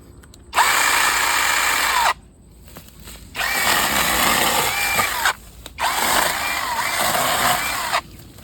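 A cordless electric chainsaw whines in three separate bursts, each lasting a couple of seconds, with short quiet gaps between them, loud and close.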